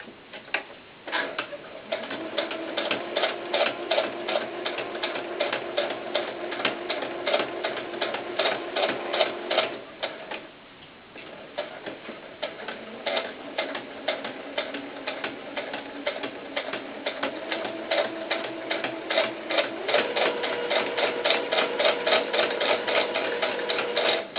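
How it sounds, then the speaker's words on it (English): A sewing machine puts a stay stitch into a doll baseball cap, its needle ticking in a fast, even rhythm through two long runs split by a brief pause near the middle, fairly quiet and close, no voices. "I'm going to just put a stay stitch in here"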